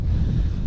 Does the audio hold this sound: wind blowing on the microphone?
yes